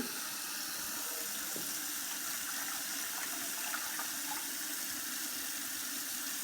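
Water runs steadily from a tap into a bowl while it is being measured for a sourdough bread dough, a continuous close splashing hiss lasting throughout with no talk.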